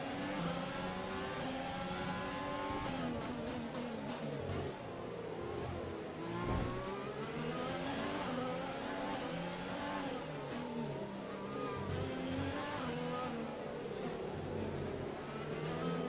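Formula 1 cars race in the F1 2020 video game, with engines constantly revving and shifting pitch as they accelerate and brake. The whine is loud and continuous, with no voices over it.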